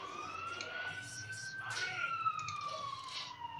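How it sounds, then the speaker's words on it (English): A police car siren drifts along a road in the background, its faint wailing tone gliding steadily over a few seconds beneath a person talking. "as a police car goes goes along the road in the background"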